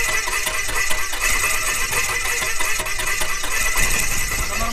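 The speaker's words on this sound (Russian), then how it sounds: "Даже мотор сейчас заведу, потихонечку буду ехать" The engine of a very small light aircraft runs at a steady idle, a loud continuous drone with a rattling, buzzing texture close by and no talking.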